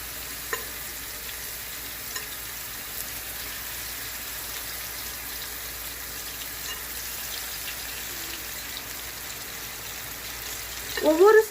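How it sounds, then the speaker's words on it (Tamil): Marinated chicken pieces fry in about four tablespoons of hot oil, giving a soft, steady sizzle throughout, with a louder stir or clatter at the very end. "ஒவ்வொரு சைடும் நாம 5 minutes இதை ஃப்ரை பண்ணி எடுத்துடலாம்."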